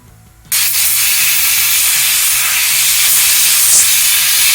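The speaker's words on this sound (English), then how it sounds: "I'm putting on these wet rags so that way it'll cool down and not heat up the motor shaft bearing." Wet rags on a hot electric motor coupler give off a loud, close, steady steam hiss that begins abruptly after a short quiet start and holds throughout without talk.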